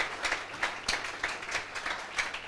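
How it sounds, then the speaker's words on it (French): Congregation in a church applauding, a steady crowd clapping with a few sharper peaks running throughout, fairly close and dense. "Acclamez pour vous-même."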